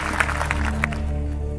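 An audience at a religious gathering claps in a dense, steady round of applause, close and sustained over a low background hum.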